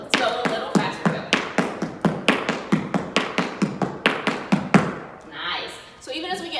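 Tap shoes strike the floor in fast, even cramp rolls, a steady chain of sharp close taps that carries on for several seconds and then stops, leaving a short breath and faint movement.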